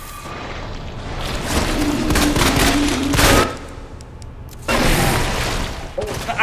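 Rapid gunfire in Resident Evil 2 Remake, loud and close, a steady burst of shots lasting a few seconds, a short gap, then another burst over a rumbling game backdrop.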